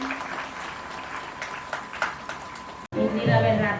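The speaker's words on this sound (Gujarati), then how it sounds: "તાળી પાડજો," Audience at a Women's Day celebration in a church compound gives scattered, moderate clapping for about three seconds, then a brief cut and a burst of louder, busier sound.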